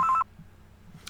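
A short burst of touch-tone telephone dialing beeps, a few quick keypresses right at the start, clear and fairly loud, followed by near silence with faint room noise.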